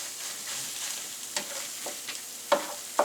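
Potatoes fry in a pan as salt and pepper are stirred through, a soft continuous sizzle broken by several sharp spatula scrapes and knocks, close and fairly quiet.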